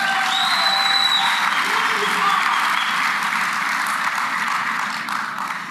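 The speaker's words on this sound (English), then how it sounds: "Give yourselves a round of applause." Sustained applause from a large audience at a political party congress, a dense, steady wash of clapping that holds loud for several seconds before easing slightly toward the end.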